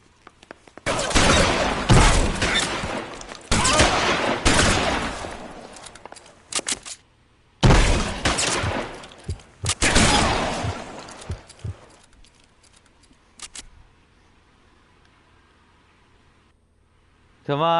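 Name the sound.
shotgun gunfire in video game L.A. Noire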